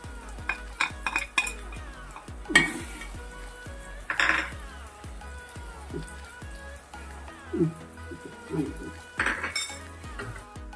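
Fish biryani masala being stirred in a metal pan, with a spoon scraping and clinking against the pan in irregular strokes over a steady sizzle of frying.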